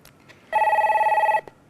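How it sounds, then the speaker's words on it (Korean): A single telephone ring for a viewer call-in on a Korean stock-market broadcast, one steady electronic trill lasting under a second, loud and clear against a quiet studio with no talk over it. "전화부터 한번 받아볼게요"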